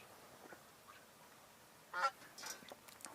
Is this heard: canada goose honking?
yes